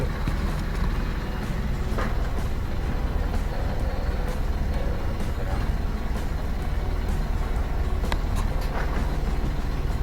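Engine of an old 1996 car idling after sitting unused for a month, a steady low rumbling drone throughout at moderate level, with faint background noise and no revving.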